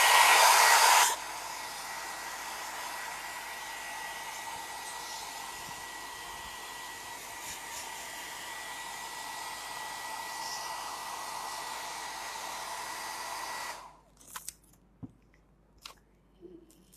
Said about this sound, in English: I'll just use the hair dryer to dry it a little faster.